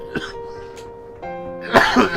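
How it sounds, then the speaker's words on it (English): A man coughs in a few sharp, close bursts with some throat clearing, over a steady low hum. "That laugh made me cough."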